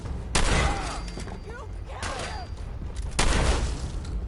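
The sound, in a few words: shotgun fire in the video game Fallout 4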